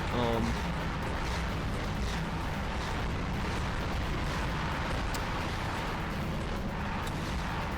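A boss in Ratchet and Clank: Going Commando unleashing mini rockets, heard as a continuous, dense roar of explosions and booms, with a person talking over it.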